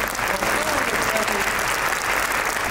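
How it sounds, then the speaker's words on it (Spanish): Audience applause for the CONAVIP team at the opening ceremony of a government book programme, a dense steady wash of many hands clapping at full volume throughout, with a faint voice underneath. "por favor, démosle un aplauso"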